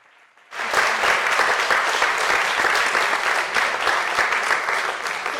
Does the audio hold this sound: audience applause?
yes